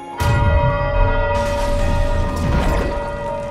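Bell tolling in the co-op video game It Takes Two, a loud resonant strike with a sustained ringing tone that hangs over low mechanical rumbling, a second bright hit adding shimmer partway through.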